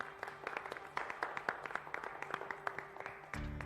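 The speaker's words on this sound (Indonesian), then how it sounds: "Tepuk tangan dong." A small group claps for an employee handed a new motorcycle as an award, with quick, faint, rhythmic hand claps that continue steadily before a low tone takes over at the end.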